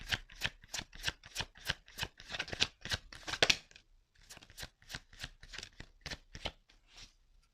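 Tarot cards riffle-shuffled close up in a quiet room: a rapid train of crisp, evenly spaced flutters and slaps, a short pause, then a second burst of shuffling, with no talking.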